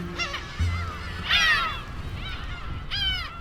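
Black-tailed gulls calling at a breeding colony, three or four loud, nasal, honking cries spaced a second or so apart over a faint outdoor hiss.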